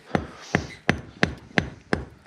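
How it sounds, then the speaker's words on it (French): A stonemason's hammer taps stones into place while building a window opening in a stone wall, six sharp, evenly spaced knocks, close and clear. "et de les asseoir avec cette fois-ci un têtu plus qu'avec un marteau"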